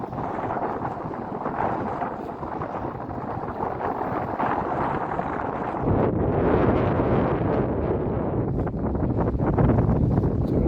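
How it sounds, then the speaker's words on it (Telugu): A medium-size ship moves fast across the sea off a beach in Kuwait, wind rushing past in a steady broad roar that grows louder partway through, with no talking. "మీడియం సైజ్ షిప్ కొద్దిగా స్పీడ్గా వెళ్తుంది"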